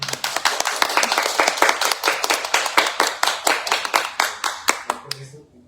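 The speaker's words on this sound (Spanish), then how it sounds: "Un aplauso a la doctora." Audience clapping for a professor at a book presentation, a dense run of sharp close handclaps with a steady rhythm that thins to a few last claps and stops.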